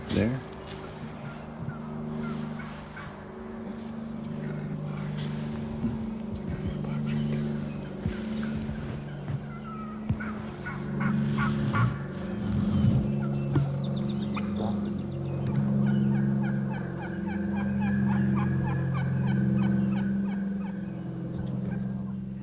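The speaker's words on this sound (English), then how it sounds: "You're listening to what is known as overcalling, too many hunters in a small area making too many calls." Wild turkeys gobble repeatedly in the distance among a steady layer of calls from many hunters, with some low background rumble throughout.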